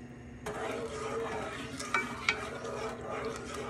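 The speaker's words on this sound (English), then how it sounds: "I'm just going to heat this up and stir until the sugar is all dissolved." Sugar and water stirred while heating in a pot to make simple syrup, a soft continuous swirl with a few sharp clinks of a utensil against the pot, no voices.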